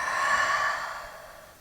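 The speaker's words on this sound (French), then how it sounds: "On expire par la bouche." One long, audible exhale through the mouth during a yoga flow, a breathy rush that is close and clear at first, then fades gradually.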